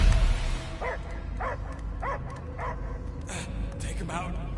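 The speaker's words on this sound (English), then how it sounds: "I hear only barking." Dog barking in the Guardians of the Galaxy video game, a series of about five evenly spaced barks or yelps over a constant low game ambience and music bed.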